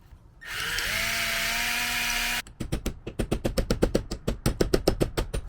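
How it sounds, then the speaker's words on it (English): A power drill whines steadily into metal for a couple of seconds, then a rapid series of sharp rhythmic clicks and ratcheting hits follows, close up. "This one might need just a little bit more drilling."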